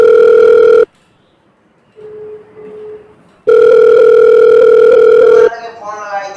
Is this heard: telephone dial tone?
yes